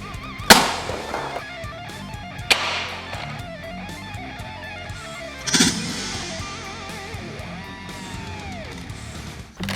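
Modded Nerf blaster firing eight darts at once like a shotgun, giving a few sharp, loud pops spaced seconds apart, each followed by brief rattling and scattering of darts, over a low background hum.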